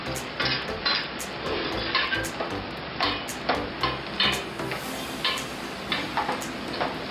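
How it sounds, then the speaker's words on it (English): Crushed garlic stirred into onions frying in a pan, with a steady sizzle under repeated scraping and clinking of a utensil against the pan, close and fairly loud. "Now add the crushed garlic."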